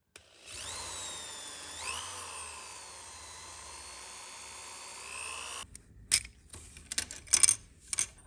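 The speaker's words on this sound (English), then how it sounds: "Then I'll use a Dremel to cut those pieces off." A Dremel rotary tool whines at high speed cutting small plastic parts off a Hot Wheels toy car, a sustained close buzz with a brief pitch dip, then it stops and small parts clatter and tap.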